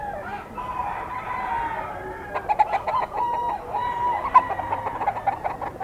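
Stag roosters at a poultry market in Bocaue crow and cluck, several birds calling at moderate distance with overlapping crows in the second half.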